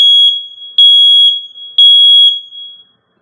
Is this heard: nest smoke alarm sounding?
yes